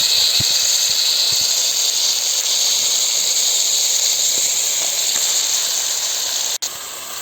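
Washed chicken pieces sizzling in hot oil for a Kongu-style chicken kolambu, a loud, continuous hissing fry that holds steady with only a brief dropout near the end.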